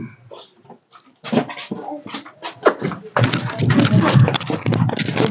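A dog whimpers and yelps in short bursts, close and fairly loud, with children's voices and household noise around it.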